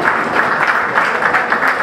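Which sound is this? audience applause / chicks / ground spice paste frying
audience applause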